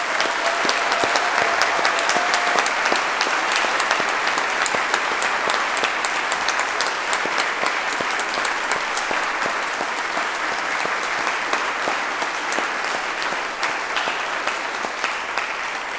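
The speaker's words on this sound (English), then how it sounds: "I think you deserve another applause from parents, from visitors, for your great success." Parents and visitors at a school celebration in Manchester give the students a long, sustained round of applause, dense and even clapping filling the room for about sixteen seconds without speech.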